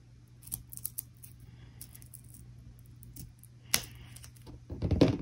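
Scissors making angle cuts through craft material for a eucalyptus piece: several crisp, close snips in quick clusters, then a louder single snip and more handling noise, with no talking.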